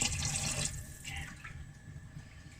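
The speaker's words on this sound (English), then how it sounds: "so now we're gonna add some water" Water pours from a tap into a soup pot for vegetable rice soup, a steady close rushing splash that is loudest early and then settles into a softer continuous trickle.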